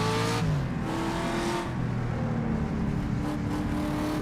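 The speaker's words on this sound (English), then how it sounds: "You can hear the cars working their way up the hill then." Race car engines in the rFactor racing game, on the 1967 Targa Florio course, drone and rise in pitch as they climb a hill, a continuous loud multi-engine whine with shifting tones.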